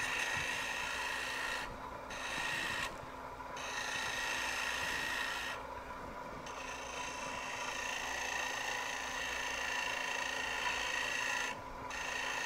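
Wood-turning gouge cutting a spinning piece on a lathe at a woodturning demonstration, a continuous rasping, hissing cut with a few brief pauses where the tool lifts off, fairly quiet and without talk.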